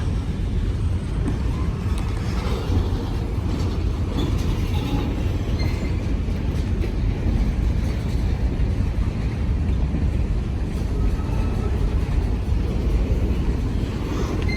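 A CSX freight train with a couple of tank cars rolls past close by, giving a steady, continuous rumble and rattle of wagons with light wind noise and no break.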